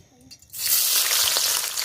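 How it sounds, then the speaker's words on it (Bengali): Sliced onions and ginger hit hot oil for biryani and burst into a loud, steady sizzle that keeps going after a quiet start. "বিরিয়ানির জন্য বেরেস্তা ভাজবো আদা তেল দিয়ে দেবো পেঁয়াজ"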